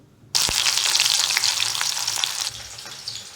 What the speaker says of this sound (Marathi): कांदा आपण तळून घेणार आहोत